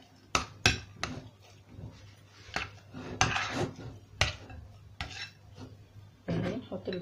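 A spoon stirs a spoonful of ghee with spices in a hot pan, giving sharp metallic clinks and short scrapes against the pan at an uneven rhythm over a faint steady hum, close and moderately loud.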